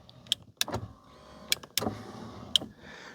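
Passenger-side power window on an Australian Ford car, a low motor whir running through the clip, punctuated by several sharp clicks and taps at irregular intervals, close and fairly quiet.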